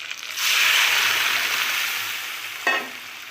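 A pan of curry with boiled red lentils and Malabar spinach gives off a loud, close hiss and bubbling that swells, eases, then flares briefly again near the end.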